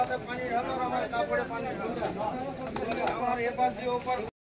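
Pigeons coo and flutter amid busy street market chatter on Galiff Street, Kolkata, with several people talking continuously over the birds.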